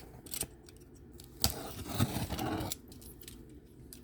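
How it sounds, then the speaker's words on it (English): A blade slices through packing tape on a shipping box holding a Dooney & Bourke handbag, giving a few short, close scraping and snipping sounds with a brief rasping stretch in the middle, with no speech. "So let's go ahead and cut the tape"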